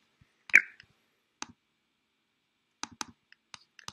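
Sharp, dry computer mouse button clicks, close and isolated: one louder click early, then a sparse scatter of single and paired clicks separated by silence.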